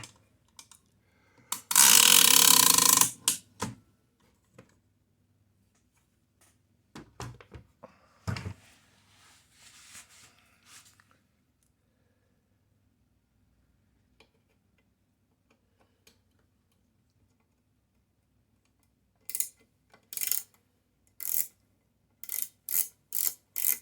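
Screws being undone on the carriage of a Torpedo Dynacord S typewriter: a loud burst of broadband ratcheting early on, scattered soft clicks and taps, then a run of quick sharp ticks toward the end, close and with no talking.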